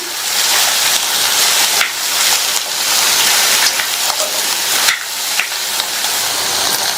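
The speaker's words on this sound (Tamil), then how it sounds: "இந்த காய் இந்த எண்ணெயிலேயே நல்லா வதங்கணும்." Cut ridge gourd sautéing with garlic in hot oil, a loud, steady broadband hiss and crackle with a few brief stirring knocks, close and continuous throughout.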